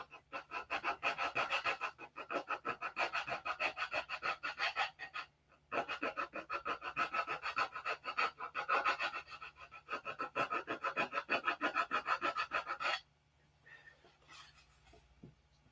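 Rapid back-and-forth rasping of 180 and 80 grit sandpaper glued to fingertips, sanding a model P-47 plane; steady rhythmic strokes in long bursts with a brief pause, close and loud, ending in lighter scuffs.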